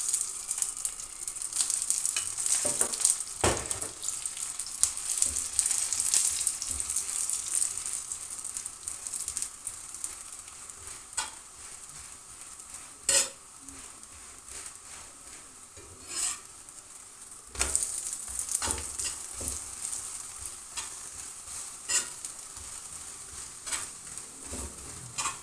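A methi paratha fries in ghee on a pan with a soft, steady sizzle, broken now and then by sharp scraping and tapping as it is pressed and turned, and there is no talking.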